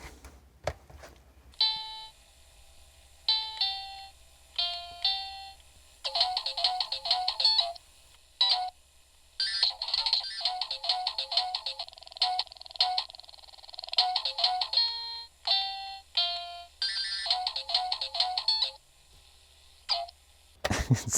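A RadioShack CTR-122 cassette recorder plays a tape back at fast speed, giving chirpy, high-pitched bursts of sped-up sound in quick choppy runs with short gaps, close and fairly quiet over a low hum.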